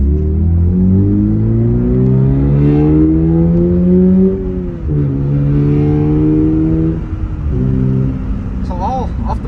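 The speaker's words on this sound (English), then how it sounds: "I'm going for a first test drive" Toyota GR86 sports car accelerating hard on a first test drive, its engine note climbing through the revs in a loud, close, steady pull with a brief dip at a gear change, then rising again.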